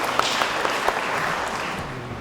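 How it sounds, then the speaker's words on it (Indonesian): Wedding guests applauding the newlyweds: moderately loud, steady crowd clapping with a few sharper claps early on, tapering slightly toward the end. "Selamat dulu, tepuk tangan buat mereka dua."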